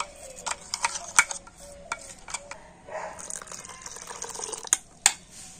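Water poured into a mixer jar and stirred into batter, with uneven clinks and splashy stirring strokes at close range and a faint background hum, no voices.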